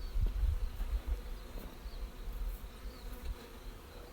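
Close, continuous buzzing of many honeybees swarming over a hive's inner cover, a dense droning hum with no voices.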